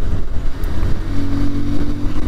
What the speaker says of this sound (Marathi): गाडीचा फायरिंग ऐकला का गाईज